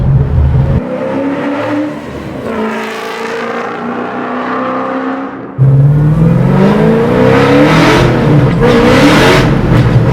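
A supercharged 800 hp 1969 Camaro widebody accelerates hard through the gears, its engine rising in pitch, then a shift into second gear and a loud, close, sustained pull with supercharger whine, heard from inside the car.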